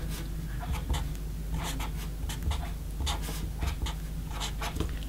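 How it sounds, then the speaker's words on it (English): A pen writes out a maths sum on paper, with rhythmic scratching strokes in short bursts close up over a low steady background hum, and no talking. "And then I'm going to write out the rest of the sum, as I have before."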